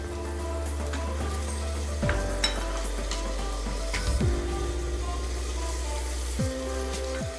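Ginger and garlic paste with a splash of water sizzles steadily in a hot pan, a continuous close frying hiss with a few soft scrapes of stirring and no voices.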